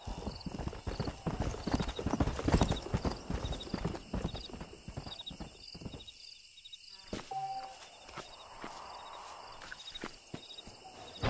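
Horse hooves clip-clop in the Red Dead Redemption western video game, a quick busy patter of steps that eases off and thins out later, with insects chirping softly in the background.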